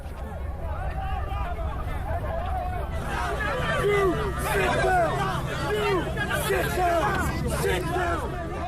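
Terrified migrants crowding together at sea during a night rescue: a dense, continuous babble of many shouting and crying voices, fairly close and loud, with some engine or water noise underneath.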